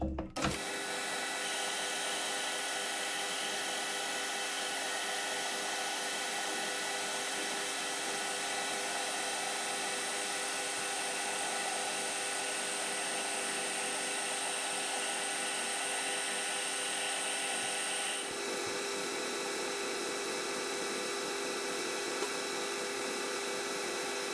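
A lathe taking a slow skim pass on a stainless steel push rod for a Kawasaki engine, a loud continuous motor whine with steady tonal hum that shifts slightly partway through and carries on unbroken.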